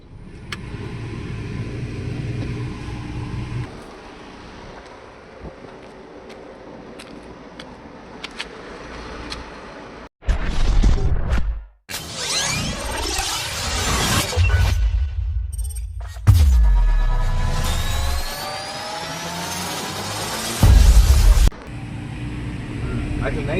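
A driving school car is driven on a road, with a low engine hum, shifting road noise and a few sharp bursts of rushing sound, while people talk inside the cabin.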